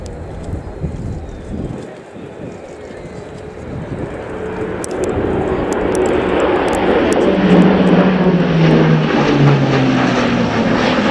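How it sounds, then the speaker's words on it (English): An Airbus A400M turboprop transport performs a flying display at the RIAT airshow, its propeller drone swelling from distant to loud and steady as it passes, with wind buffeting the microphone. "An aircraft that can do things during this display that you wouldn't expect of something so large"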